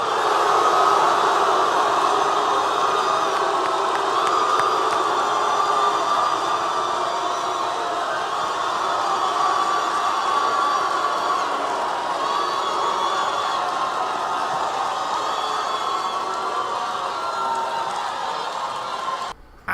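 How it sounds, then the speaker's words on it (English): A large debate crowd at Politicon 2017 roars loudly and continuously, mixing cheers with jeers and boos in a dense, sustained wash of voices. "You got some cheers in there, but you also got some jeers and some boos as well"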